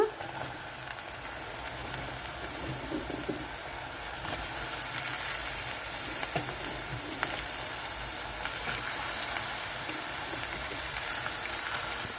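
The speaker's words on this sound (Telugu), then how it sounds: "ఉల్లిపాయలు వేగినాయి ఇప్పుడు వంకాయలు చిక్కుడుగా వేసేసుకుందాము" Chopped brinjal and beans sizzle in hot oil with fried onions, a steady, close crackling and hissing that carries on without a break.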